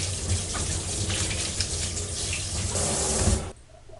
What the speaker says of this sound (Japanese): パパイヤをきれいに洗っていきます